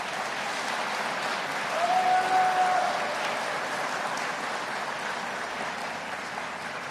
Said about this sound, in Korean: 여러분, 오거돈 시장님께 큰 박수 한번 부탁드립니다.